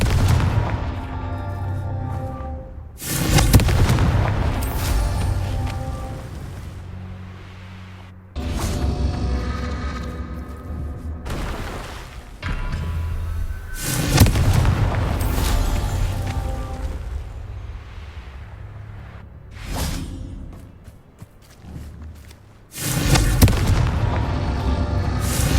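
Confringo fire-blast spells explode in Hogwarts Legacy, five heavy booms erupting several seconds apart, each a sudden loud burst that rumbles and fades.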